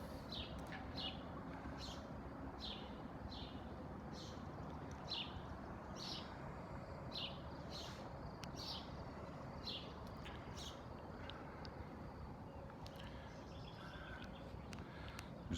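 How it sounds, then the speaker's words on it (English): Birds chirp repeatedly in a steady run of short calls on a back patio in Sioux Falls early in the morning, set against a constant low outdoor rumble with no talking. "flying and chirping."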